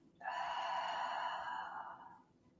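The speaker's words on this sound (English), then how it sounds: "Exhale to the right." A long, steady exhale during a yoga side bend: one sustained, breathy outbreath of about two seconds, close and fairly loud, fading gently at the end, with no talk over it.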